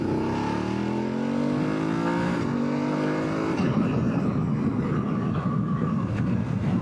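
A BMW F850GS motorcycle fitted with a GRmoto Trioval carbon slip-on exhaust revs hard in second gear: the engine note climbs steadily, then breaks into a loud, rough, sustained roar close by.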